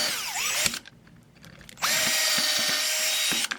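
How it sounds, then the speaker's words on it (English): A power drill bores holes through assembled pieces of a homemade facial sensor mounted on sunglasses, whirring loudly and close in two bursts separated by a brief quieter pause. "Drill a hole between all of the pieces."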